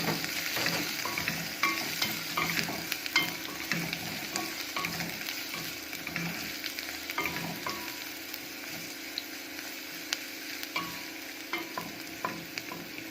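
Garlic frying with browned onion in a pan for a liver dish, a steady close sizzle broken by frequent spatula stirs and scrapes, no voices.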